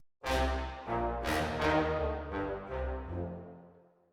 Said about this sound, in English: So the next one we're going to try is Space Designer, and this is an IR reverb, so impulse response reverb